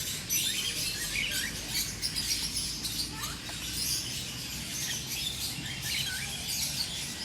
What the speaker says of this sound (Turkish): Genel olarak sultan papağanları var burada da.